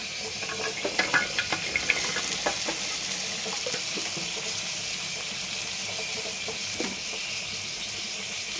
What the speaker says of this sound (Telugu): ఇప్పుడు ఇందులో ఈ బెండకాయ ముక్కలు వేయాలి